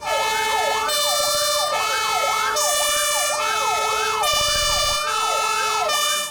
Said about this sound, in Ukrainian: За традицією у частині звучить остання бойова тривога